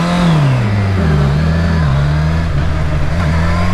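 A Suzuki GSX-R750 motorcycle engine revs loud and close while riding, the pitch dipping and rising across a few gear changes in a continuous mid-pitched roar.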